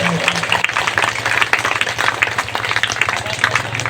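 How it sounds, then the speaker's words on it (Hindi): Rally crowd at a Jan Suraaj party gathering in Bihar claps steadily in welcome, a busy, uneven patter of many hands with some background voices. "दोनों आदमी के लिए जोरदार ताली से स्वागत करियो"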